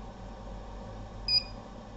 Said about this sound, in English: with every press of the key you are hearing the buzzer sound